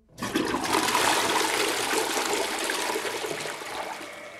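A toilet flushes close by, a sudden loud rush of water that surges and then keeps gushing and swirling steadily as the bowl refills, with no talking.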